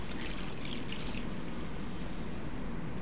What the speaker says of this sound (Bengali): এখন আমি চালটা ভালো করে পরিষ্কার করে আগে ধুয়ে নিব।